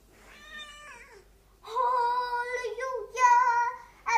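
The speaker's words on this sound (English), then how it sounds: "this is our pet cat" A pet cat meows several times at close range, giving one drawn-out call, then a pause, then a louder, longer run of meows that ends in a brief final cry.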